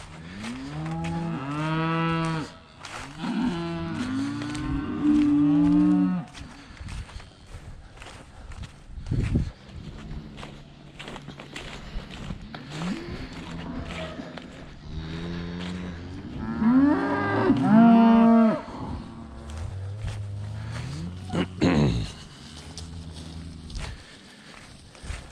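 Cattle on a ranch moo loudly several times, long drawn-out calls up close, with footsteps and shuffling between them and a second burst of mooing later.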